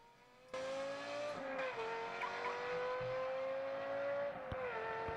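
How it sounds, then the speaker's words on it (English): A Lexus LFA with a Formula One-inspired V10 engine holds a loud, high-pitched steady rev, dipping briefly between gear-like shifts, heard alone with no talking. "But it leverages a V10 that is very Formula One inspired."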